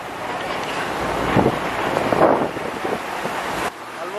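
Strong wind roars and buffets steadily against the microphone during a road trip from Lahore toward Kashmir, loud and constant with no voices, dropping slightly near the end.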